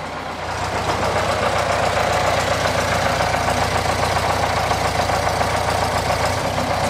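A classic Volkswagen Beetle engine idles steadily and loudly close by, running rich, with a low, even rumble and a faint ticking chatter throughout.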